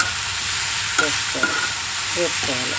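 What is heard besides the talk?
bottle gourd curry frying in a pan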